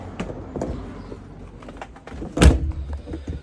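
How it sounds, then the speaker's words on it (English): The door at the back of an Elddis Majestic 130 caravan is pulled shut with a single solid thunk, preceded by a few light rattles and handling noises. "If I just shut this door."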